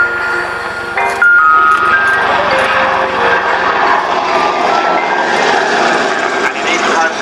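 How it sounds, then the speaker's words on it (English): A huge three-engine helicopter flies a display at the RNAS Yeovilton International Air Day 2005, its loud roaring engine and rotor noise dominating the whole stretch while someone talks over it. "This is a huge helicopter, this. It's a 3-engine beast."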